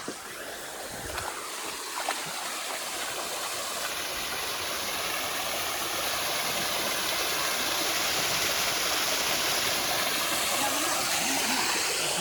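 A village stream runs strongly, its steady broadband rush of flowing water holding at an even level throughout, with a faint high whine running through the middle.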